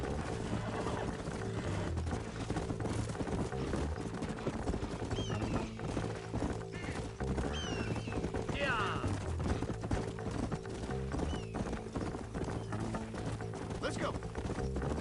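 Horses galloping in the Red Dead Redemption video game, steady fast hoofbeats running continuously under a dense mix of game music and ambience, with occasional whinnies and voices.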